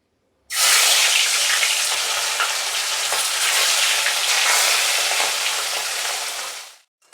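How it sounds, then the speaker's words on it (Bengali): Katla fish pieces sizzle steadily in hot oil, a loud, dense frying hiss that starts abruptly and fades out near the end, with no talking. "এবার মাছগুলো আমি ভেজে নিই।"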